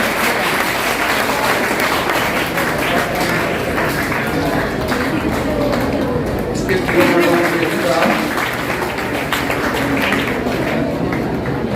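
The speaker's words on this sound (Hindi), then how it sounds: "जोरदार तालियां आनी चाहिए।" An audience at a Teachers' Day honouring ceremony in a high school auditorium applauds continuously, a dense, loud patter of many hands with voices and a few thumps beneath it.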